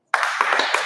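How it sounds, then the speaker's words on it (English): Parents at a PTA meeting answer with a short, sharp burst of clapping from a roomful of people, the claps quick and overlapping and lasting under a second. "If you can hear me, clap 4 times."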